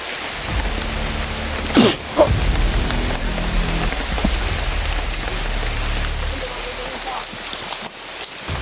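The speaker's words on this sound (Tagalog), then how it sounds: "umuulan na po ngayon mga tol" Steady rain hisses across the whole stretch, with a couple of brief louder bumps early on and faint low rumbling underneath.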